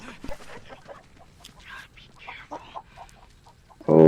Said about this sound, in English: Oh no, the chicken.